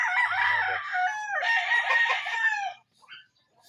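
A rooster crows loudly and close up, one long drawn-out call followed by a couple of short clucks.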